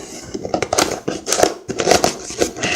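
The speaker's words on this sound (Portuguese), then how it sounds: "vem com umas camadas muito boas de plástico, né, ele vem assim. Vamos abrir aqui para ver." A boxed CK104 RGB mechanical keyboard with blue switches is unwrapped from its layers of plastic packaging, giving close, continuous crinkling and rustling with sharp tearing bursts throughout.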